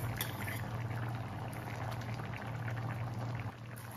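Cane sugar syrup is poured into a pot of Hang Lay curry, a northern Thai curry simmering with sliced ginger: a soft, steady bubbling and pouring wash, quiet and close, that drops slightly near the end.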